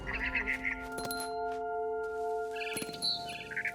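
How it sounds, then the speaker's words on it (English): A barn swallow chirps outside a window in the video game What Remains of Edith Finch, with a few short, bright calls over a steady tonal musical score. "Then I heard chirping outside my window."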